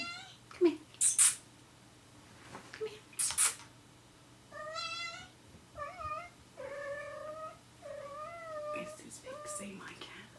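A pet cat named Pix meows five or six times up close, each a drawn-out, wavering cry. A few brief voice sounds and rustles come before the meows.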